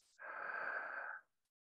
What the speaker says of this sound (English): Inhaling, exhaling through your mouth.